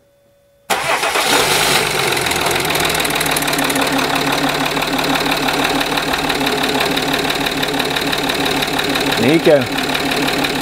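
A car engine cranks and catches after a short silence, then settles into a loud, steady idle with a rough rattling texture; a voice speaks briefly near the end.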